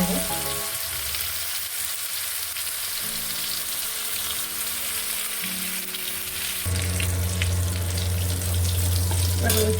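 Oil sizzles steadily in a pan as potatoes fry for a homemade bottle gourd and prawn curry. The loud, continuous crackle swells louder partway through, with no voices.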